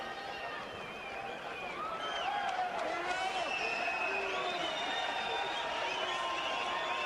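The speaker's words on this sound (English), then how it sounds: "the crowd still whooping and hollering it up here" Boxing arena crowd at Hector Camacho vs Roberto Duran rematch, a continuous roar of whooping and hollering with rising cheers, broad and steady throughout, with a commentator's voice running over it.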